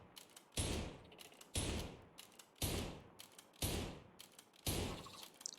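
Rapid gunfire in the game RimWorld, five loud bursts at roughly one-second intervals, each a sharp crack that tails off into a short rattle, with no voices.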